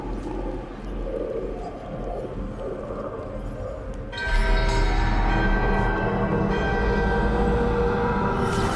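In the video game Dragon Age: The Veilguard, a great bell rings out during a ritual. A bright, resonant toll swells in over a rumbling battle ambience and then sustains loudly.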